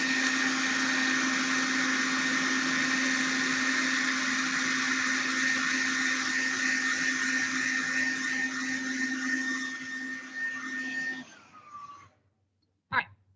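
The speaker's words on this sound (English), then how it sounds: "Hair dryer on." A hair dryer blows steadily on a clay double pinch pot for a rattle head, a loud continuous whirring hum that holds for about eleven seconds, then winds down and cuts off, followed by a brief click.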